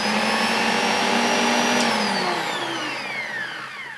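Panasonic MC E47 upright vacuum cleaner running with its brush roll spinning: a steady, close whirring motor whine that winds down toward the end, with no talk.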